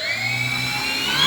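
The electric motor of a Durafly Brewster F2A Buffalo RC plane, 920mm, whirs up into a steady high-pitched whine with rising tonal harmonics, close and loud, alone without speech.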